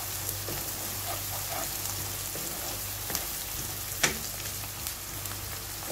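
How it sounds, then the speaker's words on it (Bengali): Ginger garlic paste frying in a pan for a prawn and Malabar spinach curry, a faint, even sizzle with a low steady hum, one sharp utensil clink and a few light scrapes, quiet and without voices. "তো আমি একটু ভেজে নিচ্ছি"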